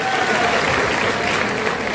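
An audience at a poetry gathering in Saifai claps loudly and steadily, a dense burst of applause filling the whole moment.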